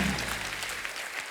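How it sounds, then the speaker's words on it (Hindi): A television comedy show studio audience applauds the four guests with a brief, lively round of clapping that fills the room at moderate volume. "जोरदार तालियां हो जाए हमारे चारों मेहमानों के लिए"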